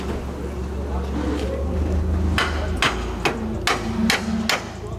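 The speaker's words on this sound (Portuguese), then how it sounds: "Pega um martelo pra mim aí." A hammer strikes metal car parts during the teardown of a wrecked Audi TT RS for a swap into a Golf GTI Mk7, five sharp clanks in the second half over engine-like rumble and talking.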